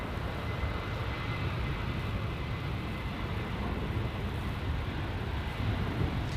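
A Portugal heavy airliner on approach to land on runway 24 right at LAX, a steady, loud broadband jet roar that holds constant throughout without a break, no voices.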